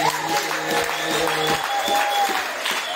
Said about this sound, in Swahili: Mchapie wana makofi.